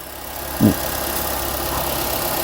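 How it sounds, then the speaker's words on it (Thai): A Honda City 1.5 i-DSI car engine idles with an even, low mechanical hum, opening with a brief thump before settling into a steady rumble that continues to the end. "เดี๋ยวผมลองสตาร์ทเครื่องให้ดู"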